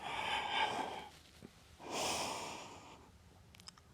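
Close, audible breaths during a yoga core and glutes workout: a long exhale, a pause, then a deep inhale, followed by a faint click.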